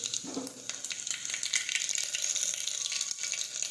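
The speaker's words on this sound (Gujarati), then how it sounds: "હવે આપણે તેમાં ફોલેલું લસણ નાખી દઈશું. રાઈ અને જીરું નાખીશું." Peeled garlic, mustard seeds and cumin sizzle in hot oil as the base for a brinjal, potato and pigeon pea curry, a steady close crackle with a brief burst at the start.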